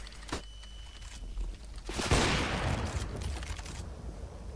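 Gunfire in CS:GO, a faint single shot and then a louder, rougher burst of firing that trails off into lower background game sound.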